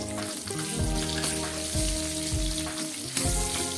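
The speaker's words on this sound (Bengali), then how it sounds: "এবার দিয়ে দিচ্ছি পেঁয়াজ" Onions hiss and sizzle in hot oil in a pan for a fish-head muri ghonto, a steady crackling fry broken by regular stirring scrapes every second or so, close up with no talking.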